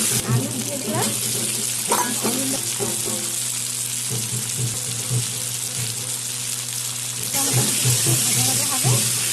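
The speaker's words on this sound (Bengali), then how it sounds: "এখন টমেটো দিয়ে দেবো, টমেটো ভাজা হবে। তারপরে আলু দিয়ে দিলাম" Tomato and potato pieces fry in a pan, a steady close sizzle running throughout with scattered stirring clatter and a brief louder burst near the end.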